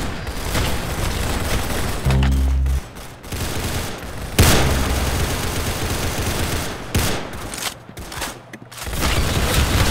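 Rapid gunfire from a Dragunov sniper rifle and other weapons in the Roblox game Arsenal, a loud, dense run of shots and booms that continues across the whole stretch.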